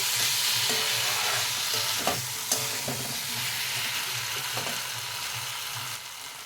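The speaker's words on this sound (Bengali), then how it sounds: "জিরে সর্ষেটা ভালো করে একসাথে আলুর সাথে দিয়ে কষিয়ে নেব।" Potatoes fry with cumin and mustard seeds in a pan, a steady broadband sizzle running throughout with a few soft scraping stirs of the spoon and a low hum beneath.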